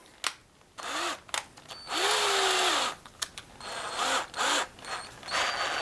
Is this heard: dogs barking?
no